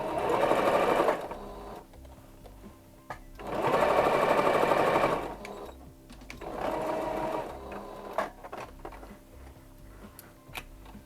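A sewing machine back stitches the seam of a toddler dress in three bursts of steady, rapid stitching, each a second or two long, separated by quiet pauses filled with faint ticks and handling noises.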